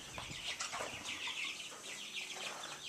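Chickens in a barn, including a dark Cornish, cluck and squawk in overlapping calls over a constant low background hum, fairly close but quiet.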